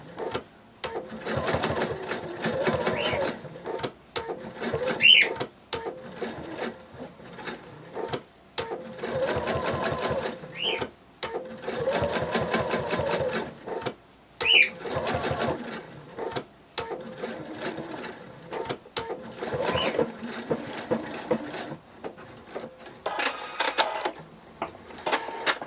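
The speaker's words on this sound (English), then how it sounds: "I'm going to go ahead and sew around the horn entirely" A sewing machine stitches around a small plush dragon's horn in repeated short bursts, rapid mechanical chattering runs stopping and starting with brief pauses between them.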